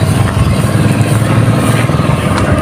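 A motorcycle engine runs after being washed, a loud, close, rough idle with a steady pulsing throb and no voices over it.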